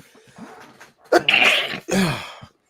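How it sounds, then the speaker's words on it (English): A single loud sneeze with a sharp inhaled build-up, followed by a second wet burst, close to the microphone. "I need to sneeze again."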